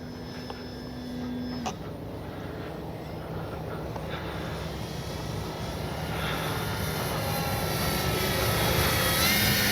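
The electric motor of a Dynam DHC Beaver V2 radio-controlled plane on its maiden flight gives a steady, buzzing drone in the air that holds constant and grows slightly louder toward the end.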